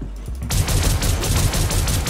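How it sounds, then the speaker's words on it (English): Rapid volley of futuristic pistol shots in the sci-fi shooter Star Citizen, sharp repeated cracks fired in quick succession over a low steady hum, loud and close. "Let's try to tap somebody with this pistol."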